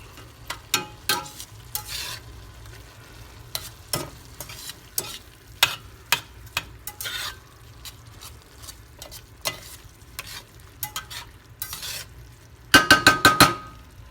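Sazon seasoning being stirred into food frying in a pan for Puerto Rican pastelón, a spoon scraping and tapping in irregular strokes over a soft sizzle, close and clear, ending in a quick burst of metallic clinks.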